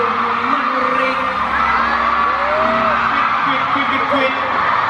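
A voice imitates the warbling call of a red-whiskered bulbul during a concert in Thailand, short rising and falling whistled notes heard over loud, constant crowd noise and hall ambience.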